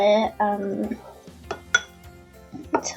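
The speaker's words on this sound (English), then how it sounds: "Then you just stir it in" Ingredients for cinnamon monkey bread, including milk and powdered sugar, are stirred in a bowl, with a few close clinks and scrapes of utensil against the dish in short bursts.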